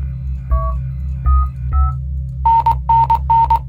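Phone keypad tones from entering a passcode in the video game Among Us: three separate beeps, then three quicker, brighter tones in a steady rhythm, all over a low constant game hum.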